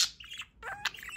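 A pet budgie lets out a few bright, close chirps in quick succession, with a short pause between the first call and a rapid burst of trills, loud and alone without talk.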